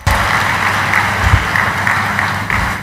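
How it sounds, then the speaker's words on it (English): Audience at a tech conference in Lagos breaks into applause, a steady, full clapping that holds evenly across the moment with a faint voice or two underneath. "I think that deserves a round of applause."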